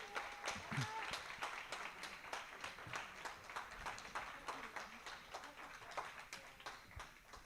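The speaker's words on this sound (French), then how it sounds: "On peut les applaudir encore une fois." An audience at a science-communication semi-final claps for the candidates standing before them, a moderate, fairly sparse round of applause with distinct individual claps, with a few voices underneath.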